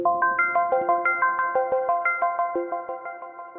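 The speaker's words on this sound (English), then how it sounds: "one is called Dancing Fifths Synth. It sounds like the intro to Reading Rainbow" Dancing Fifths Synth preset from the Neural DSP Archetype Rabea plugin: a bright, bell-like arpeggiated pattern of rapid, evenly pulsing plucked notes bouncing between pitches, steady and up close with no voices.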